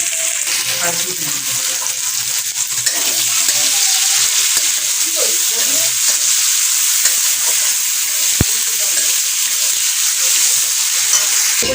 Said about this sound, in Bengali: এদিকে রান্নাটা হচ্ছে মশলাটা কষছি